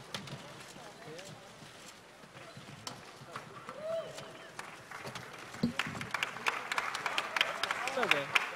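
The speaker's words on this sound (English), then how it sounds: "Big round of applause for two classy, classy gentlemen." Audience applause and crowd noise at Conor McGregor's post-fight press conference after Mayweather vs McGregor, a steady patter of clapping that builds toward the end, with someone talking over it throughout.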